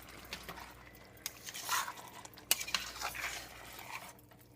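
A utensil scrapes and clinks against a pan while stirring an eggplant parmesan mixture, quiet irregular taps and scrapes with a couple of sharper knocks and soft wet movement.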